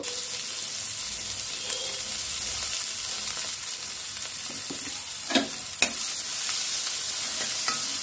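Onions frying in mustard oil with green chillies and five-spice tempering, a steady close sizzle with occasional sharp spatters and stirring scrapes, no voices.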